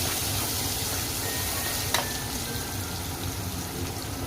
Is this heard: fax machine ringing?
no